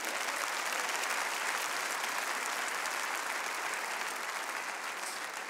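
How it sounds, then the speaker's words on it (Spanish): Steady applause from a church congregation during a Spanish-language Christian sermon, dense and continuous throughout without a break, filling the room at an even level. "Ahora sí, denle ese aplauso al Señor."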